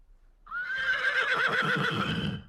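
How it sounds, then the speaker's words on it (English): A single loud horse whinny with a bright, wavering high pitch, heard alone and close, trailing into shuddering snorts toward the end. "Now let's play back a horse neigh"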